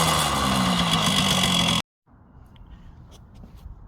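A 2003 Kawasaki Bayou 250 ATV engine running with a steady, loud mechanical drone that cuts off abruptly, followed by faint quiet rustling and light handling noise.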